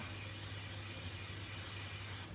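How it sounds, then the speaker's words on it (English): Cooking spray hisses steadily onto a spatula while making Rice Krispie treats, one continuous close aerosol burst that lasts the whole moment and cuts off at the end. "I'm actually going to take my spatula and I'm going to spray that down"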